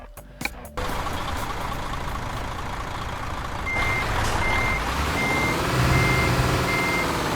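Reversing beeps from a truck in Euro Truck Simulator 2, a steady run of evenly spaced electronic beeps over a constant engine drone, with a short burst of clatter at the start.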